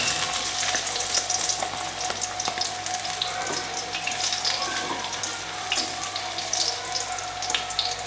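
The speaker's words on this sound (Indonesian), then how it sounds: "Setelah minyaknya panas, kita masukkan bawang putih," Garlic fries in hot oil for a sambal goreng kecap with chicken liver and tofu, making a steady, close sizzle with light stirring scrapes and no talking.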